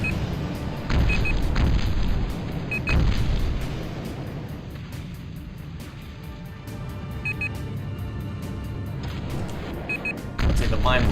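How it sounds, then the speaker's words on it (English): Blast cannons firing in the Battlezone '98 game, heavy booming bursts that repeat over a rumbling engine drone, with short electronic beeps now and then. "My favorite friends, the blast cannons."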